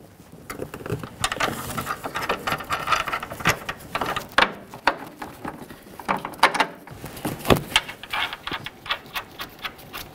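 A mounting nut being threaded onto an upper control arm bolt on a 1998-2011 Ford Ranger: a rapid, uneven series of metallic ticks and ratcheting clicks, close and fairly loud, with no one talking.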